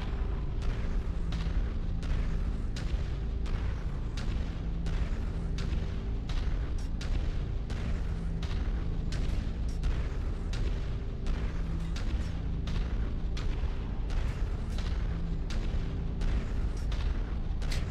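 Artillery installations in MechWarrior 5: Mercenaries keep up a constant barrage of heavy booms and explosions, regularly spaced and loud over a dense rumbling battle din, with no voices.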